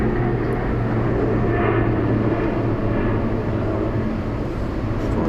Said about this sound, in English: Like that's a helicopter or a plane just going past his house.